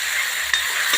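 Soaked fenugreek seeds and rice drop into hot ghee tempering, giving a steady bright sizzle with a brief stirring scrape midway, close and alone without talk.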